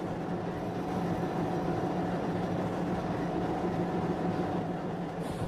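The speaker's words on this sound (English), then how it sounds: "we have beautiful view of parcel van which is crossing our train" A parcel van train passes alongside a stationary passenger train, heard from inside the coach as a continuous, even rumble of rolling wheels that holds steady throughout.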